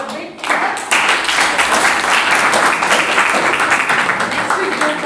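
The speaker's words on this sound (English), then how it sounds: "Let's clap, students. Let us give a big clap." Students applaud at an inter-house school quiz competition during a rapid fire round, a dense, steady wash of many hands clapping that starts after a brief pause and holds loud and continuous to the end.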